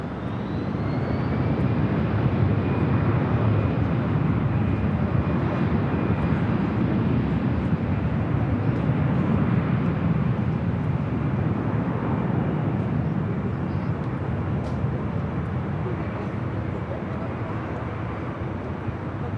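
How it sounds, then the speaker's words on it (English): A Delta airplane takes off, its engines a loud, continuous roar with a faint whine riding over it, holding steady throughout. "This takeoff is Delta"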